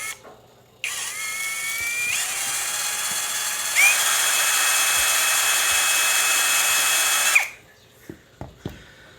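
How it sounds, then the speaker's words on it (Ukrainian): A cordless screwdriver spins a treadmill motor rigged as a wind generator, giving a steady whirring drone that starts abruptly, shifts pitch upward partway through, then cuts off, followed by a few faint clicks. "зараз пробуємо покрутити шуруповертом"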